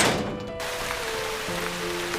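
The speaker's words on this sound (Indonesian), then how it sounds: "Malam itu hujan turun dengan derasnya." Heavy rain pours at night as a dense, constant hiss that stays loud and unbroken, with faint low tones humming underneath.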